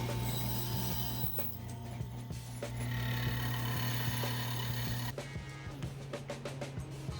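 A drill bores holes into wood for a homemade shelf in a garage, a steady motor whir with a tonal hum and scattered clicks and knocks, faint music playing in the background.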